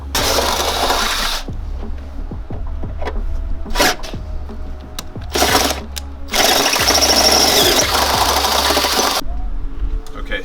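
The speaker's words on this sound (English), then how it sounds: "So these two holes here and here need to get drilled to 5/16." A power drill bores 5/16-inch holes in a steel bumper bracket on a Jeep Rubicon, loud whining bursts of drilling separated by short pauses, with someone talking in between.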